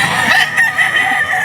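A rooster crows loudly and close by at a pet market, a short strained call with clucking, alone without talk.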